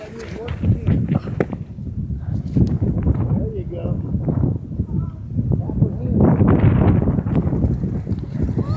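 Gusty wind buffeting the microphone in rough, rumbling surges that rise and fall throughout.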